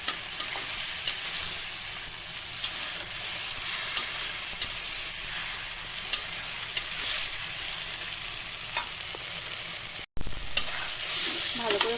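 Ghugni of black chickpeas and peas being sautéed with a splash of its boiled cooking water, a continuous close sizzle with faint stirring scrapes, briefly cut off near the end before resuming.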